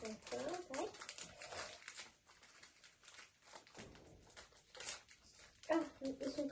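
Crinkly plastic packaging from an Action store crackles and rustles in uneven bursts as it is pulled open close up, with a person talking in French between the crinkles.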